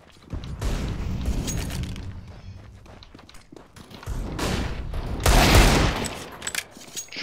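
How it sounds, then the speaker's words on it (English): A flashbang grenade bursts amid rattling gunfire during a Counter-Strike match, loud and close, with a sustained rumble of shots and a sharp, bright blast late in the sequence. "flashbang."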